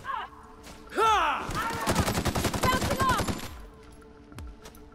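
Rapid gunfire in the sci-fi shooter The Outer Worlds, with a dense, sustained volley of automatic shots lasting a few seconds and a few whooshing weapon sounds before and after, loud against quiet game ambience.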